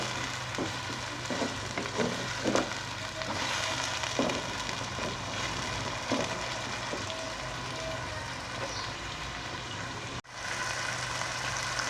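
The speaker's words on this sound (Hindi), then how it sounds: "इसको भूनेंगे अच्छी तरह ऑयल में, ताकि हमारी ये जो बीफ की बोटियां हैं ये सारी अच्छे से इसमें फ्राई हो जाएं।" Beef pieces fry in oil for a beef yakhni pulao, giving a steady, fairly quiet sizzle with occasional soft stirring knocks and a brief dropout near the end.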